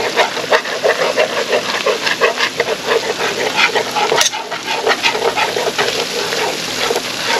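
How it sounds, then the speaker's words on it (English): Flour is whisked into cooked-down onions and celery in a pot, producing a rapid, steady scraping and soft sizzling rhythm close by, continuous for several seconds with a faint sharper knock midway. "Now we're going to add in our half cup of flour. Whisk it together."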